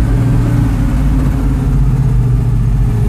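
A Chevelle wagon with a 402 V8 rumbles steadily, loud and close, a deep throbbing engine note from inside the car holding even throughout with no voices over it.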